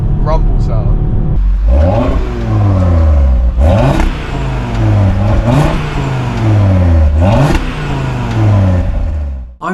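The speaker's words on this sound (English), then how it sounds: "the 5-cylinder noise is meant to be the selling point on these cars" A 2022 Audi RS3's five-cylinder engine revs hard through repeated gear changes, each climb in pitch ending in a sharp break before the next pull, loud and close, with the car accelerating throughout.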